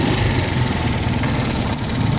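A motorcycle engine idles while smoking, strained by a heavy load after a problem with its push rod. It gives a steady, loud, rough mechanical rumble close by, with no talking.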